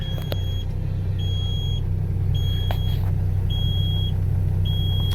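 A truck engine runs after firing up, a steady deep rumble with a series of evenly spaced high beeps sounding over it.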